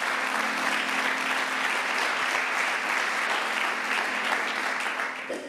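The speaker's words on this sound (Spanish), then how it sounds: "yo que usted le doy un aplauso a Él" A church congregation bursts into loud, sustained applause, dense clapping that stays level throughout before tapering near the end.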